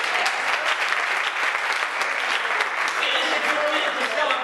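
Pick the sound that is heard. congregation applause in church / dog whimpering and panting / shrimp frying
congregation applause in church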